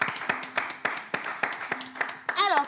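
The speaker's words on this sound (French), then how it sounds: "On va juste applaudir cette expérience." A small gathering claps in slow, evenly spaced unison beats, roughly three per second, fairly soft, with a voice speaking briefly at the end.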